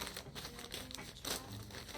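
A mailed package of fabric and scissors is opened, with faint, close crinkling and rustling of packaging in irregular bursts, quiet and without talk.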